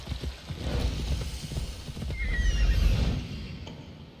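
A horse clip-clops along in Assassin's Creed Odyssey, quick rhythmic hoofbeats near and moderately loud that swell midway and then fade, with a faint whinny-like cry briefly heard.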